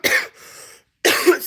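Two sharp, close coughs from a person with severe acid reflux, separated by a short pause, loud and alone with no talking.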